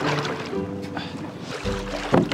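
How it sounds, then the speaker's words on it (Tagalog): Wooden outrigger boat being pushed out to sea off northern Palawan, with low scraping and sloshing of the hull in shallow water amid wind and a thump near the end, while voices talk nearby. "tulak natin itong bangka papunta dun sa laot"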